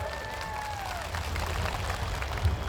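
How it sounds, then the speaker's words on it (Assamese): An audience at an outdoor gathering in Dotma, Bodoland gives a round of applause: dense, steady crowd clapping with a brief whistle-like tone at the start, rising slightly and peaking near the end. "ল'ৰাবিলাকে পাব বুলি আপোনালোকে এটা হাত চাপৰি বজাই দিয়ক।"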